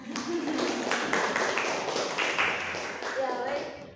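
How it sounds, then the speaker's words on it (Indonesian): A talk show audience gives a presenter a round of applause, a moderately loud burst of clapping heard alongside voices. "Sekali lagi beri tepuk tangan yang meriah"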